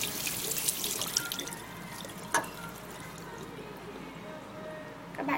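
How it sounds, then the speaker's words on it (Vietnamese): Water runs from a tap to wet a face-cleansing brush, a faint steady splashing trickle with a single brief clack partway through. "Trước tiên chúng ta làm ướt cọ."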